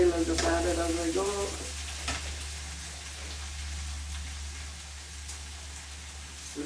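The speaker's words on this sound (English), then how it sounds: "Fry those up a bit." Mushrooms frying in oil in a pan give a steady, moderate sizzle with a low hum underneath, and a short burst of voice or clatter comes near the start.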